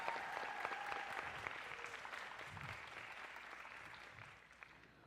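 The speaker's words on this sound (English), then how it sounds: "if we could get a round of applause for everyone that sponsored this event" An audience at a dance championship in a performance hall applauds the event sponsors, steady clapping from a crowd that slowly fades out.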